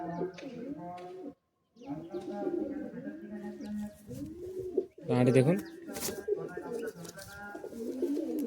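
Madrasi pigeons coo in repeated rolling, throaty phrases, close by, while someone talks over them intermittently.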